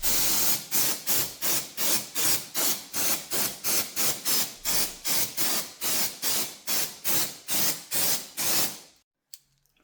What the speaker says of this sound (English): clean this area you are working on with a little bit of brake cleaner